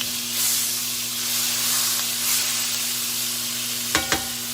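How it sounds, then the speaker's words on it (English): Grease sizzles steadily in a hot pan, a bright continuous hiss under a faint electrical hum, ending with two quick clinks. "Sizzling."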